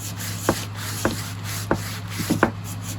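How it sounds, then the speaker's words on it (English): Sandpaper rubbing across a wooden frame in a few short strokes, roughly one every half second, with a quick double stroke near the end, close over a steady low hum. "And of course sanding,"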